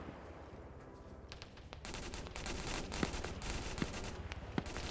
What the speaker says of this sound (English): We got some mortars firing.